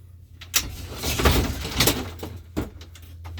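A door on a 2008 Fleetwood tent trailer is fitted into place, giving soft sliding scrapes, a few plastic knocks and a clack near the end, close and moderately quiet with no talk.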